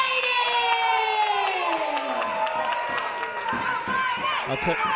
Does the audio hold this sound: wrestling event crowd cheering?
yes